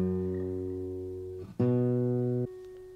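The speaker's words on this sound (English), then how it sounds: "Well, I'm going to tune first." Single guitar strings ring out and sustain while being tuned, one note fading before a sharp new pluck near the midpoint holds steady, then changes again toward the end; close, clear, with no voices.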